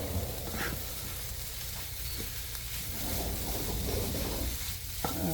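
A spatula scrapes and stirs scrambled tofu with vegetables in a hot pan, with a steady sizzle throughout and a few louder scrapes near the end; no one talks.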